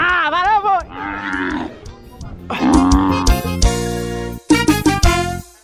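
Cattle on a farm, with several loud, drawn-out moos and lowing calls rising and falling close by, broken by short gaps and mixed with a voice talking.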